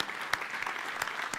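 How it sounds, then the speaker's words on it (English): Brief applause from a risk conference audience, a steady patter of clapping with a few sharper individual claps standing out near the front. "Please, again, one big applause for Chris."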